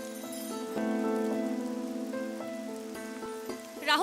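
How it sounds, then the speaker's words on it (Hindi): Heavy rain hisses as a steady wash of noise beneath a sustained, chiming musical score, with no voices. "बारिश बहुत तेज है, अंदर आ जाओ"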